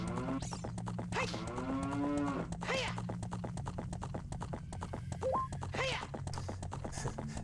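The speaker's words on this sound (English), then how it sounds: "She might sound like a cow, but she's just feeling a little hoarse." Epona the horse in Zelda: Ocarina of Time lowing like a cow, several loud drawn-out moos over steady clip-clopping hooves and game background sounds.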